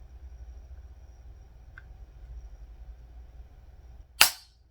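Faint gritty scraping of a dirty unloaded pistol's trigger creeps under a low background rumble, ending in a sudden sharp metallic snap near the end.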